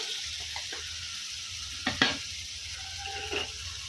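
Washed chicken goes into hot tempering oil in a pot over a husk-fired stove, giving a steady close sizzle, with a sharp clatter of stirring near the middle and a lighter scrape toward the end.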